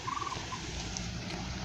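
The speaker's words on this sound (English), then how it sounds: "There's some bird calls going on." A bird calls along a nature trail on a hot summer day, a short gobbling, warbling call at the start followed by a faint peep, heard at a distance over a hissy outdoor background.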